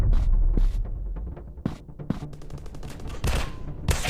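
Rapid bursts of gunfire from a counter-terrorist first-person shooter video game, dense automatic fire and single shots crackling in quick clusters, loud and continuous with no talk.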